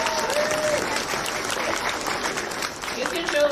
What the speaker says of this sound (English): You can show applause however you like.